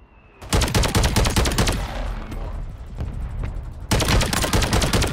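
Rapid automatic gunfire in a Call of Duty match on Rebirth Island, with a loud, close burst of quick regular shots, a lull of scattered distant fire, then a second sustained burst.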